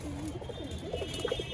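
Pigeons cooing inside a coop in winter, nesting on eggs: soft, low warbling coos in short repeated phrases, close by and fairly quiet, with light rustling around them.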